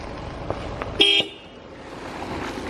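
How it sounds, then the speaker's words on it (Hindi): A car pulls up at the Mundiyapani forest rest house in Jim Corbett and gives a short double honk of its horn at moderate distance, followed by quiet outdoor ambience. "किन्नौर मुंडिया पानी फॉरेस्ट रेस्ट हाउस से सैनी भाई की कार आ गई है।"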